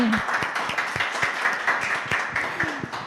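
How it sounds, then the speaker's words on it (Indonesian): Audience applause at a start-up innovation talk session, a modest crowd clapping in quick, uneven bursts with individual claps standing out, and a voice briefly heard over it. "Tepuk tangannya mana nih?"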